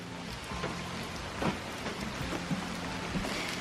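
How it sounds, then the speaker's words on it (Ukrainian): Heavy rain pouring steadily outdoors in the countryside, a dense continuous hiss with scattered louder drops and splashes, close and loud throughout. "такий сильний дощ"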